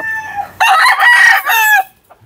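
A Melsims hatch rooster crows once, close and loud, a short rasping cock-a-doodle-doo call after a brief lead-in sound.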